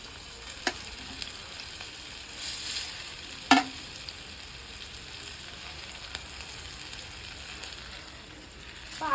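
Chicken pieces rubbed with masala sizzle steadily in a pan for chicken curry, a continuous crackling fry with a few sharp clinks and pops of the utensil, heard alone without any talk.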